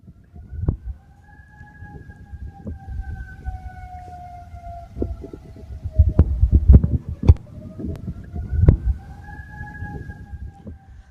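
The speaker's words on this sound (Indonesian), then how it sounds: "Suara sirene meraung di Doha saat rudal Iran menghantam Qatar." A wailing air raid siren in Doha, Qatar, during an Iranian missile strike, rises and falls in the distance, over scattered thumps, bangs and background rumble.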